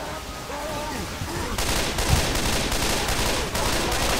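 Dense gunfire in the Left 4 Dead 2 co-op finale, a steady wash of rapid shots from many weapons that swells louder from about halfway through, with a faint voice briefly under the din.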